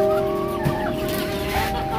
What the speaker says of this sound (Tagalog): bali ito na lang yung mga manok natin.